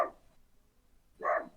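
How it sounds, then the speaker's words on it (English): A neighbour's dog barks twice from some distance, a short bark at the start and a second fuller one a second later, with quiet between and no talk. "That's the dog next door that's yelling."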